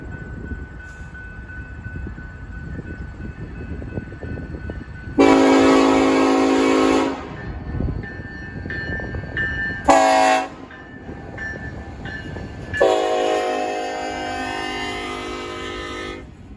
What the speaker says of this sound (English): this very wonderfully numbered SD70 ACE is in charge of empty coke train